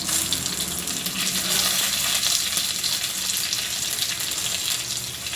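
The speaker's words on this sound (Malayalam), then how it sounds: "ഇതൊന്ന് ഇപ്പം കടുകൊക്കെ പൊട്ടി തുടങ്ങി, അതുപോലെ ഉലുവ മൂത്തു" Mustard seeds and fenugreek spluttering in hot oil, with dried red chillies and curry leaves going into the pan for a quick rice curry, give a loud, continuous crackling sizzle with no pauses and no voices.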